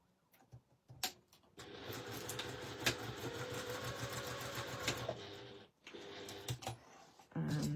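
A sewing machine stitching a fold of fabric for a placket zip: a few short starts, then a steady, even mechanical whir for several seconds, a brief stop, and more short bursts, heard up close without speech.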